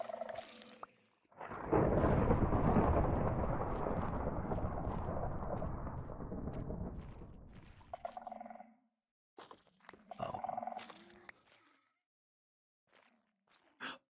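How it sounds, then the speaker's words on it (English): Thunder in the Minecraft video game rolls in as a loud, sustained rumble lasting several seconds, then fades into scattered quieter game sounds with short gaps of near silence. "That thunder startled me"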